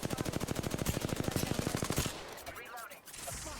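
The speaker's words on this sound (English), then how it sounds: "Firing on enemies." Rapid automatic gunfire from Apex Legends, a loud steady burst of evenly spaced shots lasting about two seconds, then stopping into quieter game effects and faint voice lines.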